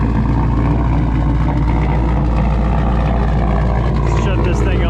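A turbocharged GMC truck's engine runs at a steady idle, a loud, constant low rumble that carries through the whole stretch with no one speaking over it.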